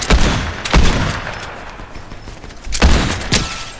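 Loud gunfire in Fortnite, sharp booming shots arriving in pairs with a pause between bursts, each crack trailing off in a short echo.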